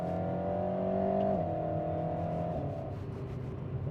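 An Alpine A110 sports car drives on a country road near Cambridge, its engine note loud and close, rising as it revs, then dropping sharply at a gear change and climbing again before easing off.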